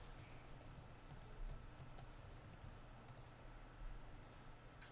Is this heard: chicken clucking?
no